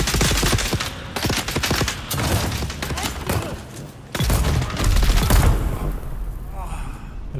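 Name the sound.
gunfire in video game Dune Awakening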